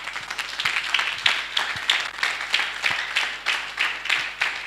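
A church congregation applauds to acclaim Jesus during a French sermon, with a steady wash of many hands clapping that is fairly loud and close, and no voices over it.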